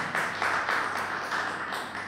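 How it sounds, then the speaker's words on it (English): A small audience at a launch event gives a brief round of applause, scattered claps in quick pulses at moderate distance. "yes, give me a round of applause."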